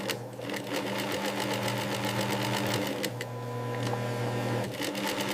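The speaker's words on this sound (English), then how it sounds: "Strength is sewn into deerskin gloves." Sewing machine stitching deerskin gloves, a fast, steady mechanical chatter of needle strokes running in close, loud bursts with brief pauses.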